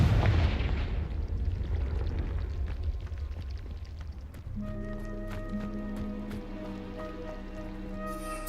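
A Confringo fire spell explodes in Hogwarts Legacy, a loud rumbling blast that decays into a crackling, rain-like wash before bright tonal magical chimes and a sustained low hum take over, with no talk.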